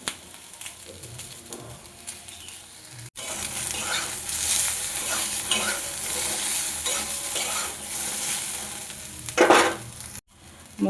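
Turmeric powder and spices fry in a pan for a Bengali drumstick curry, with a steady hiss and scraping stirring strokes throughout, a brief break partway, and a louder sizzling burst near the end.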